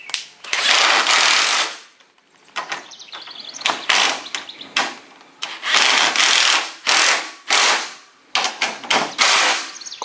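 A cordless impact driver runs garage door bolts in during installation, giving loud, harsh bursts of hammering that stop and start in several separate runs.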